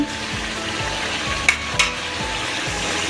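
Chopped tomato sizzles with mutton ghugni in a pan as a spoon stirs in regular sweeping strokes, with a couple of sharp metallic clinks over a continuous frying hiss.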